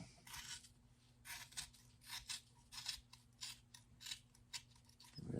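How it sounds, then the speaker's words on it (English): Scissors cutting exhaust heat wrap on a 1993 Honda Shadow 600 motorcycle, with quiet, repeated snips and rasping crunches at a steady rhythm over a low hum, and no talk. "you can get your scissors and cut it off"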